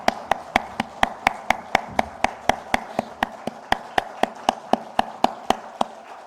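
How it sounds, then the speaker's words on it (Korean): A church congregation at a Sunday service claps together in praise, a steady, even rhythm of crisp hand claps, about three per second, continuing without voices. "하나님께 영광과 또 함께 찬양의 박수 드립니다"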